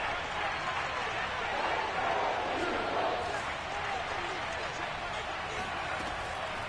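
A football stadium crowd roars in a steady, dense wash of cheering and noise during a big third-down play late in a game, with no clear voices standing out.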